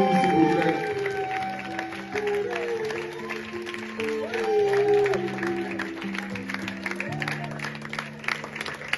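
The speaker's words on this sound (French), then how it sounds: "Vos standing ovations, l'applaudissement très fort pour vous" A concert audience applauds and gives a standing ovation, with sustained clapping and crowd noise mixed under sustained musical tones.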